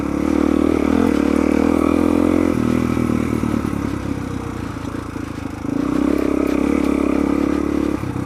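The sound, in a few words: dual sport motorcycle riding on a commute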